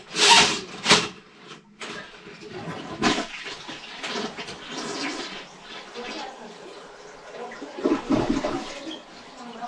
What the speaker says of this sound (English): everything is flushing fine